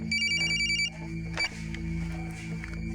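A telephone rings in a quick electronic trill for under a second, then gives way to a low sustained musical hum and faint background sounds.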